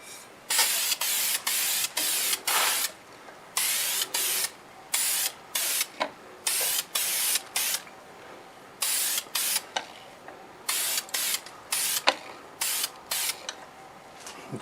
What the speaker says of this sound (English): I'm going to go ahead and spray it with gloss Deft lacquer.